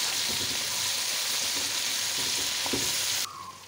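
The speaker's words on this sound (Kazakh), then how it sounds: "Сәбізімізді де солай турап алып, оларды үстіне салып, жақсылап қуырамыз." Carrots and potatoes fry with onions in a pan for homemade lagman, giving a steady, close broadband sizzle with occasional stirring clicks and scrapes, then the hiss drops suddenly near the end.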